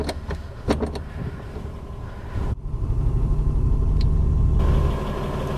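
A Triumph 2500 Mk I engine idles with a slipping clutch, then revs into a steady, rising drone that rumbles on without the car moving, heard close from inside with a few clicks earlier.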